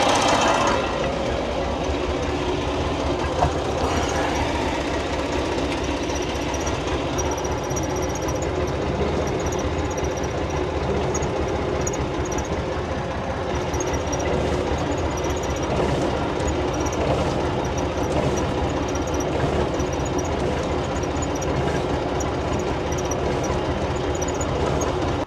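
A tractor fitted with a rear tipping trough drives forward, giving a steady, close diesel rumble with a knocking engine rhythm that holds level for the whole stretch, with no voices over it.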